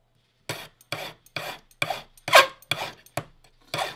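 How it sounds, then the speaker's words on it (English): A hand file rasps against the end of a metal wire to taper it, eight short, evenly spaced scraping strokes, close and crisp with silence between them. "you file more so on the one end. And again, you are just filing off those corners"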